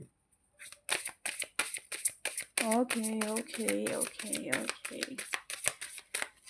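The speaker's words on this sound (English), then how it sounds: "Let me shuffle the cards to clear the energies." A deck of tarot cards is shuffled by hand in a rapid run of crisp riffling snaps and taps, close and fairly quiet, with someone speaking over the middle part.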